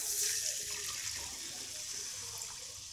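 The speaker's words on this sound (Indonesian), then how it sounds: "lalu siram air" Steady rushing splash of water poured into a hot, heavily crusted pan on a lit burner, a continuous hiss and gurgle lasting throughout at moderate loudness.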